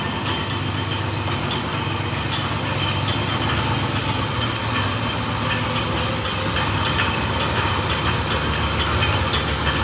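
An old-body-style dually pickup truck engine runs with a bad exhaust leak, a loud, steady, hissing rumble with a chuffing edge that continues without a break throughout.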